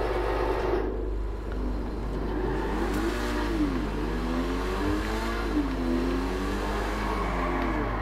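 An Infernus Classic sports car in GTA 5 revs its engine, the pitch climbing and dipping in several rising and falling sweeps over a deep steady rumble, close and loud, with no talking.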